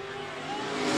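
Drift cars race in tandem through S-turns, engines revving hard in a steady, rising roar heard from a distance for a brief moment.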